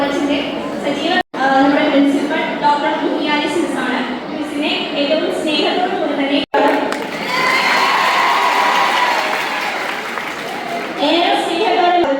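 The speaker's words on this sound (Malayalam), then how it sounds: "കൈയടിയിട്ട് സ്വാഗതം ചെയ്യുന്നു" A crowd cheering, shouting and clapping loudly and close at a union inauguration, with children's shrieks and voices mixed into the roar, swelling into a denser burst of applause and cheers toward the end.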